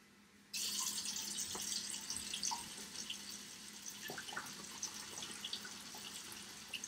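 Three cups of water pour into a container in a sudden steady splashing stream that keeps running with small gurgles and drips, fairly close and with no talking.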